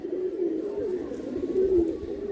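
Pigeons in a loft give a steady run of low, rolling coos, close and moderately loud, with murmured background noise and faint voices.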